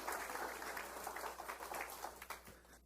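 Faint, distant applause from a congregation during a church service, a soft continuous patter of many hands without talk.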